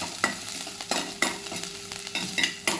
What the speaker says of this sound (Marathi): कढईमध्ये थोडंसं तेल टाकून त्यामध्ये जिरं तडतडू द्यायचं आहे